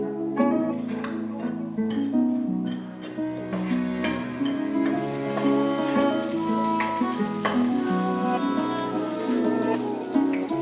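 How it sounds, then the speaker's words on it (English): Sliced onions sautéing in a pan give off a steady, soft sizzle throughout, largely buried under louder background music. "Now put sliced onions into the same pan and saute around 2 to 3 minutes."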